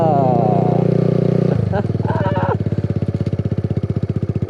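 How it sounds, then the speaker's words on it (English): A Kawasaki Z125 Pro motorcycle engine runs loud and close, a steady rev that drops into a fast, even idle putter, with a voice briefly heard over it. "it is the Kawasaki Z125PRO"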